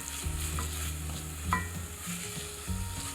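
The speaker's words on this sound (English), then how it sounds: "Then add a teaspoon of minced ginger and 4 minced cloves of garlic and cook for a further minute" Diced red onion, minced ginger and garlic sizzle steadily in hot oil in a pan, with a few soft stirring scrapes over a continuous close frying hiss; no voices.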